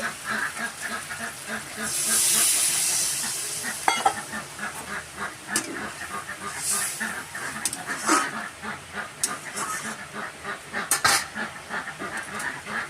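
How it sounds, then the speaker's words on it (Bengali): Teasel gourd and potato frying in a pan with spices, with water poured in partway through: a strong hissing burst of sizzle, followed by steady bubbling and the repeated scrape of stirring, close and fairly loud. "কাঁকরোল আর আলু ভালো করে কষানো হয়ে গেছে, জল দিয়ে দিচ্ছি।"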